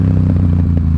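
A Yamaha XSR700 fitted with a Two Brothers SR1 Black Edition stainless steel exhaust, heard as a loud, close, continuous low engine drone with a steady pulsing rumble while riding.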